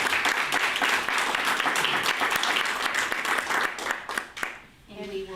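Sustained applause fills a school board committee meeting, dense and close for several seconds before thinning into scattered claps and fading under a voice at the end.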